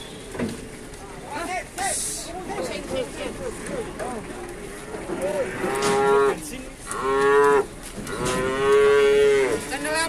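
Limousin cattle at a livestock market in Tuban, East Java, moo repeatedly, some calls long and low and others rising and strained, growing louder and closer toward the end, with people talking and background commotion.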